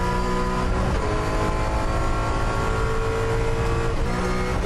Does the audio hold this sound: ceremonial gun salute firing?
no